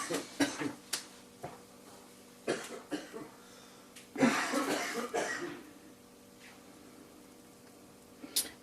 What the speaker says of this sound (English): So he's coughing away.